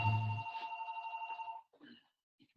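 A telephone rings with a steady electronic trill lasting about a second and a half, heard faintly in a quiet room with soft rustling after it.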